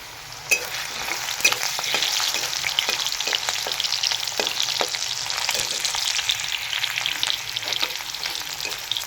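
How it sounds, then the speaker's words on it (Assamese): Potatoes fry in oil over a medium flame with a continuous sizzle, punctuated by sharp clicks and scrapes as they are stirred in the pan. "অকণমান জাষ্ট লৰাই দিম এতিয়া মই।"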